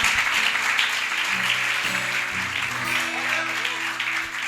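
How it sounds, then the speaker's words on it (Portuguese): A church congregation applauds during a worship service, steady massed clapping throughout with sustained tonal sounds, likely music or voices, running underneath. "Vamos aplaudir Jesus por isso?"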